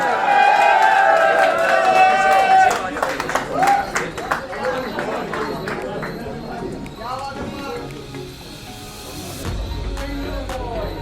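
Crowd clapping and cheering after a bhangra dance at a recovery birthday and foundation day celebration, steady applause mixed with lively chatter, a voice over a microphone and lingering music tones.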